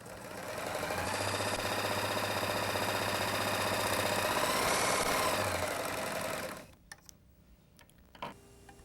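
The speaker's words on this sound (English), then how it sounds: "And then continue serging" A Viking Huskylock 1002LCD serger runs steadily at close range, humming and rapidly ticking through a seam for about six seconds, then stops, followed by a few faint handling clicks.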